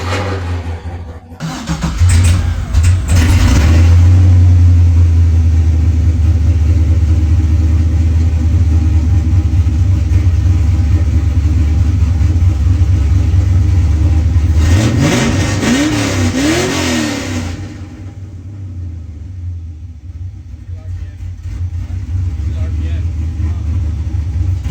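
A car engine cranks and catches, then revs loudly near the listener before settling into a steady idle, with a second rev burst midway and a quieter rumble afterward, with no voices.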